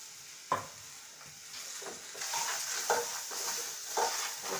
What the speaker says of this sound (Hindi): इसको इसमें मिक्स कर लेंगे अजवाइन में अमरूद को अच्छे से।